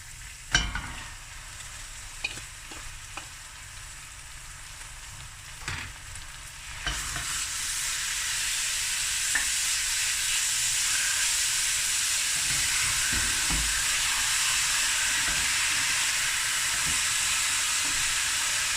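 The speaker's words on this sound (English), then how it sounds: "I'm going to add my mince now." Beef mince hits a hot pot for an ahkni and begins frying, a loud steady sizzle rising after a few scraping stirs and clanks, then hissing on evenly and closely with no talking.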